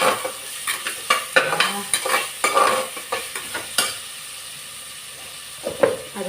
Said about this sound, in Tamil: போதும் வதங்கினது